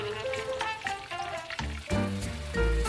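Fish scales frying skin-side down in hot oil give a steady sizzle, heard under louder background music with tonal notes.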